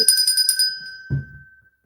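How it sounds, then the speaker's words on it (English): A single bright handbell rings with a clear sustained tone, struck several times in quick succession and then left to fade, followed by a short dull knock, during a livestream celebrating a finished stitched peacock and rose sampler. "let's have a bell for Kate."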